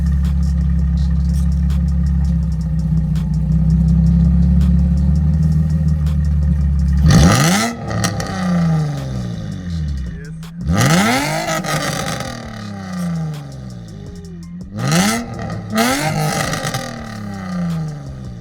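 A loud Nissan 350Z sports car engine idles with a deep rumble, then revs hard three times, each roar rising in pitch and dropping back.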